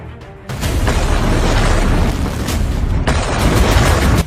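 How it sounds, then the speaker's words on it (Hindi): A drone blast at the Barakah nuclear plant in the UAE sets off a loud, sudden booming roar that rumbles on without a break and swells again near the end. "यह ड्रोन धमाका बराका परमाणु प्लांट पर हुआ।"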